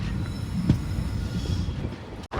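The Seshadri Express, running from Tirupati to Bengaluru, pulls out of Kuppam and heard from on board it gives a steady low rumble with faint rail clatter and a brief dropout near the end.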